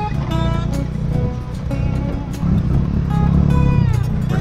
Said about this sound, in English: we grabbed ourselves a tuk-tuk, and we made our way out into the countryside